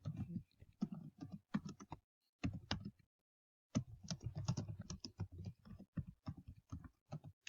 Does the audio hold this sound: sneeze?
no